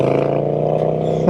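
A Triumph Speed Twin 1200 motorcycle with a ZARD exhaust holds a loud, close, steady engine drone with a strong low throb, then rises briefly in a short rev at the very end.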